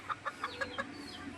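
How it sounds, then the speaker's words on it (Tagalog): A hen clucks five times in a quick even rhythm, close by, followed by a softer trailing murmur. "tatlong inahin to mga kapalong"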